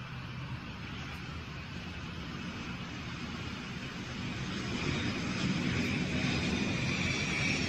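An airplane approaching touchdown with its landing gear lowered, a steady engine roar and rushing noise that grows slightly louder over the seconds, heard at a distance.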